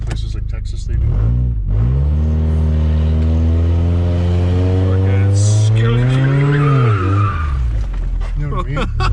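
A car's tires squeal and skid loudly through a reverse 180-degree spin, a long sustained screech whose pitch holds steady, then rises and falls near the end.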